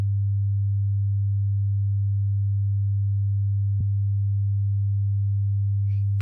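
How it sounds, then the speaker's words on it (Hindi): A steady 100 Hz sine tone used to demonstrate low pitch hums continuously and evenly for about six seconds, with one tiny click midway and a faint noise near the end. "ये 100 हर्ट्ज की ध्वनि है।"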